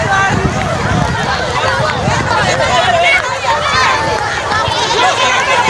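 Huge crowd gathered to welcome a new train arrival in Mwene-Ditu, loud dense babble of many voices and shouts, close and continuous throughout.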